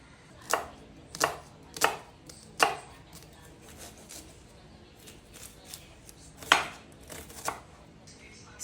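White onion chopped with a knife on a board, several crisp separate knife strikes in an uneven rhythm, fairly quiet and close, with no talking.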